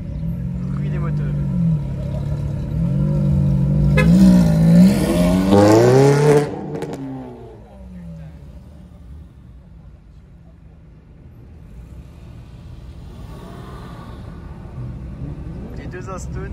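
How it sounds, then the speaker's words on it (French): Aston Martin engines revving at a car rally in the Haut-Doubs, a loud rising-and-falling roar for about six seconds that then drops to a lower idle rumble, with people talking over it. "je laisse écouter le bruit des moteurs."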